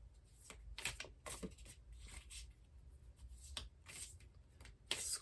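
Tarot cards are shuffled by hand, a series of soft riffling bursts and rubbing sounds close by and quiet, in an irregular rhythm.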